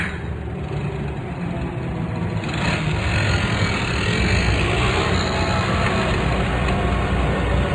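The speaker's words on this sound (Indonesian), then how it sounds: "aku kembali melajukan motor." A motorcycle engine runs steadily, then rises a little as the rider pulls away, a continuous low rumble heard close with no talking.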